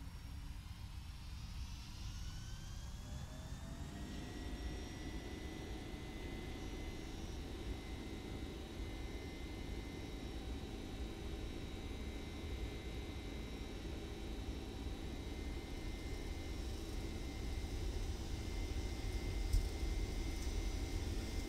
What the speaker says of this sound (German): einfach die Bremsen lösen und die Triebwerke auf den Wert des Y erhöhen